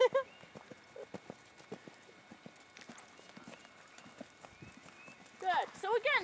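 A horse canters with rapid rhythmic hoofbeats clopping steadily over the ground, a rider's trainer speaking over them and a whinny-like squeal near the end.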